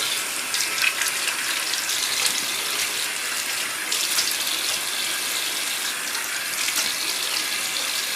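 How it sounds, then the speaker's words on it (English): Warm tap water runs steadily into a bathroom sink as a face is washed, a continuous close splashing hiss with no speech. "Then again, I wash with warm water."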